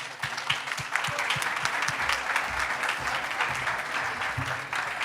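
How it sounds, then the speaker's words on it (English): An audience at the Brasil Investment Forum 2023 applauds a panel at its close, with dense, steady clapping from many hands sustained for several seconds. "a big round of applause for them"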